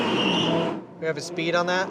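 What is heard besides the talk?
Audi R8 braking hard from 83 mph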